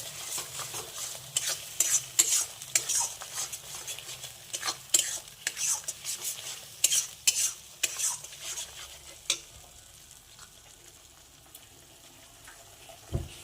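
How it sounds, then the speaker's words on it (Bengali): Mustard and coconut frying in a pan under repeated spatula scrapes and clinks in a brisk rhythm, easing into a quieter sizzle toward the end. "এখন এই সরষেটাকে এবং নারকেলটাকে ভালো করে ভেজে নেবে।"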